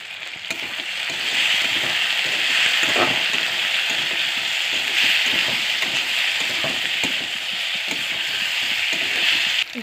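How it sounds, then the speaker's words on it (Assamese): Pumpkin and potato pieces fry in hot oil, a loud continuous sizzle with occasional stirring scrapes, close and steady throughout. "এতিয়া অলপ টাইম ভাজি ল'ম এইখিনি তেলত।"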